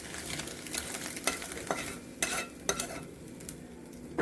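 Food sizzles steadily in a hot kadai while a utensil stirs and scrapes it, with several sharp metallic clinks standing out over the constant frying hiss. The sound is close and nobody speaks.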